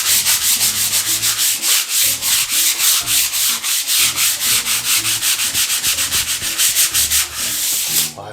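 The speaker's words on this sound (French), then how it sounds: "J'ai le papier à poncer. Je suis prêt à poncer." Sandpaper scrubbed by hand over a surface while prepping a hall for painting: loud, close, rhythmic back-and-forth rasping strokes repeating steadily for several seconds with no talk.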